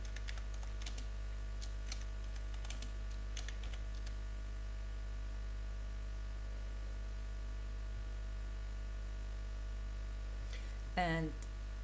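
Computer keyboard typing a name, with a few scattered close key clicks in short bursts over a steady electrical hum, and a brief voice-like sound near the end.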